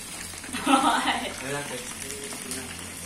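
Food frying in a pan for Thai-style mango sticky rice, a soft steady sizzle throughout with faint stirring scrapes, while a voice talks over it nearby.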